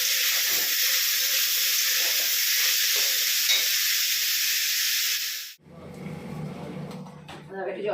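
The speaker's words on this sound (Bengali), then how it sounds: "আলু দিয়ে ফুলকপি দিয়ে পেঁয়াজ দিয়ে ভাজছি" Potato, cauliflower and onion fry in a pan with a loud, steady hiss and crackle for several seconds. Then the sizzle cuts off abruptly and quieter room noise follows.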